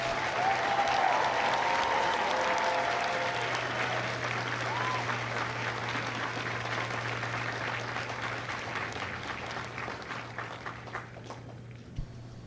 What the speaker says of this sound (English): please join me in a round of applause for the company staff of Company I.